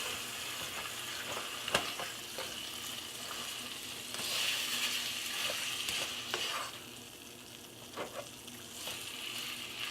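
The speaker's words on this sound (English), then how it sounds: "We're going to get our ground beef browned up." Ground beef browns in a pot over medium heat, giving a steady crackling sizzle with occasional sharp scrapes and stirring knocks, a louder burst midway, close and unaccompanied by speech.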